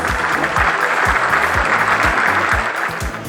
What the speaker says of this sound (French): Bravo, vous pouvez vous applaudir.